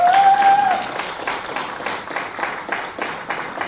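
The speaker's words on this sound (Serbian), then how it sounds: "jedan aplauz još za Bojana" Audience applause for a singer at a live music event, dense steady clapping from a crowd, fairly close and loud, with a brief sustained tone at the start before the clapping carries on alone.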